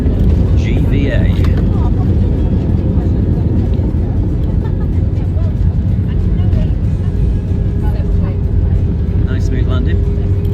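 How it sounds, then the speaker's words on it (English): Airliner touching down and rolling out on the runway at Geneva airport, heard from inside the cabin as a loud, steady low roar of engines and wheel rumble throughout, with voices talking faintly over it. "Nice smooth landing."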